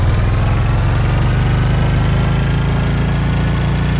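A boat motor runs at full throttle in the survival game Stranded Deep, a loud, steady, unbroken engine drone with a buzzing low rumble filling the whole stretch.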